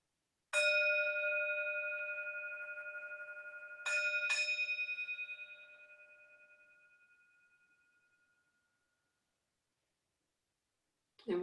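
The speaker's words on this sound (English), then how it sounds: "So let the bell be the transition." A meditation bell rings during a Buddhist service: one clear struck tone, then two more strikes in quick succession, each bright and resonant with a long shimmering decay that fades slowly into silence.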